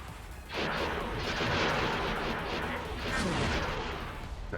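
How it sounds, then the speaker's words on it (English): Missiles launching in X4 Foundations with a Star Wars mod, a loud sustained roaring rumble of weapon fire that swells in and continues throughout. "There's the missiles away."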